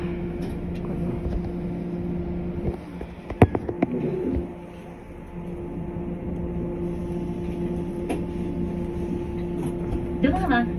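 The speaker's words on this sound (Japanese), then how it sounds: "23時3分発普通福崎行きワンマン列車2両編成発車します。" A two-car JR 103 series 3500 one-man local train on the Bantan Line pulls out of Himeji station at night, with a steady motor hum and a few sharp clunks and rattles, while a voice talks briefly over it.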